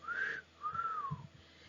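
A man whistles two clear notes: a short rising one, a brief pause, then a longer note that swells and falls away, heard alone and close.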